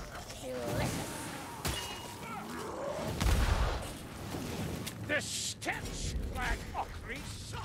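Handgun gunfire in the Vermintide 2 video game: a few sharp, loud shots crack out at intervals over dense battle noise, with voices talking throughout.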